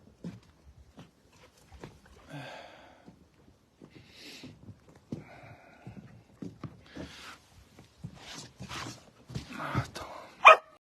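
Tied-up dog barking in scattered short bursts at moderate distance, quiet at first and growing louder toward the end, with sparse background noise between barks.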